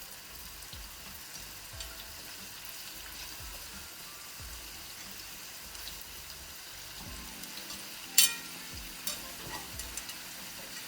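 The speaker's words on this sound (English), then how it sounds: "Waiting for the meatballs to start cooking and the potatoes and the onions" Meatballs fry in a pan with potatoes and onions, giving a faint, steady sizzle with soft pops and a sharp clink partway through, with no voices.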